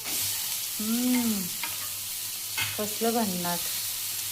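Tomatoes tipped into hot ghee in a pan while cooking chilli paneer, giving a steady broad sizzle that runs through the whole moment, with a person's voice speaking briefly over it.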